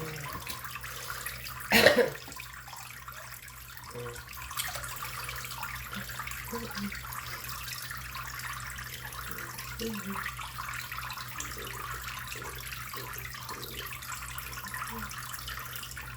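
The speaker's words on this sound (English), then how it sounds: "I just pour it straight out of the tap" Well water runs from a tap into a small 5-gallon planted aquarium, a steady mid-level pour after a brief louder splash near the start, continuing evenly throughout.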